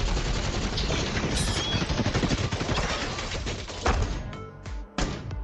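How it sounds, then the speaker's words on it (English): A heavy machine gun fires a sustained, loud barrage of rapid, dense shots that runs without pause, then briefly breaks and resumes near the end. "she mounted the heavy machine gun and joined the fight"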